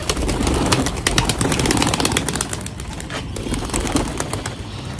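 Pigeons being fed grain coo steadily at close range, with soft wing flaps and rustling mixed in as a dense, continuous bird chorus.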